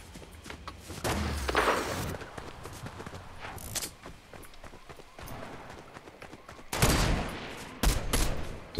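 Gunfire in Fortnite during a ranked Zero Build duos match: loud, intermittent bursts of shots, some in rapid volleys, over ongoing game noise and movement.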